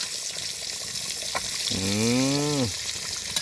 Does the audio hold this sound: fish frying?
yes